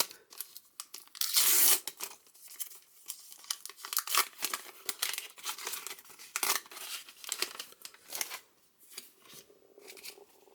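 A Panini Adrenalyn XL FIFA World Cup 2026 card packet is torn open up close, with a loud rip followed by crinkling foil and rustling cards in bursts.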